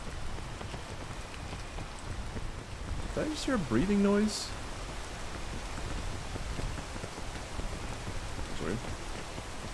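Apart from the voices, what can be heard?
rain in the video game PEAK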